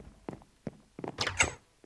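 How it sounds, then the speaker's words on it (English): A few short thuds and clunks in Minecraft, then a brief scraping, rattling burst like a door being pushed open, close and fairly quiet. "You keep opening doors."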